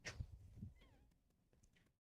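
A cat meows close by, a short plaintive call of about two seconds that trails off into silence, fairly faint, with no one talking over it.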